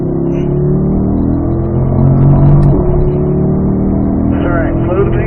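A car on the Spring Mountain North Course race track brakes, downshifts and turns in, then accelerates out of the corner, its engine note droning steadily and swelling, with an instructor talking over it throughout.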